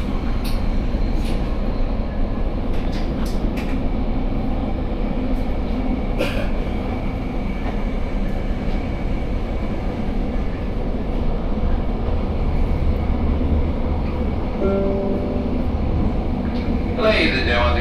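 Continuous rumble and clatter of a Metrolink commuter train in motion near Santa Ana, steady and loud throughout, with occasional squeaks and rattles and faint announcements in the background.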